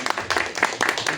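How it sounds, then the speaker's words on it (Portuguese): Brief, uneven clapping from a small audience at a poetry and rock cultural gathering, several hands beating in loose bursts with a voice mixed in. "Palmas para ele."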